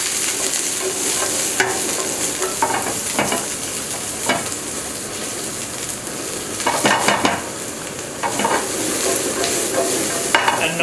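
Chicken and vegetables stir-frying in a pan, with a steady loud sizzle and repeated scraping and clinks of a utensil stirring against the metal, close by.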